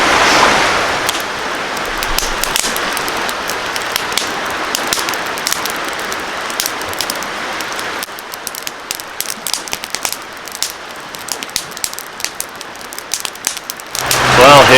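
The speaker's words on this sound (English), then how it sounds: "here comes the rain again" Rain falling outdoors on an evening with the sun still out, a dense, steady hiss that runs the whole time and swells louder in the last moments.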